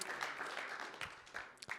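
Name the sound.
round of applause for the speaker David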